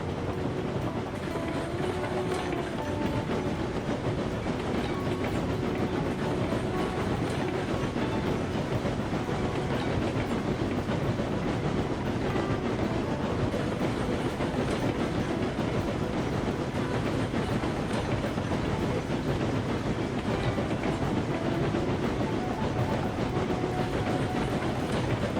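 A loaded 69-car freight train in Railroads Online rolls steadily along the rails toward a gold mine, a continuous close rumble with dense wheel clatter throughout and no voices.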